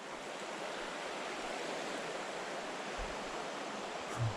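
Creek water on the Creeper Trail, just below Straight Branch, rushes steadily past piled debris, a constant broadband flowing hiss with no voices over it.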